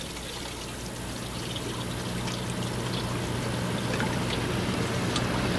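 Water pours steadily into a tank, a loud, continuous rushing splash that holds at an even level throughout with no pauses.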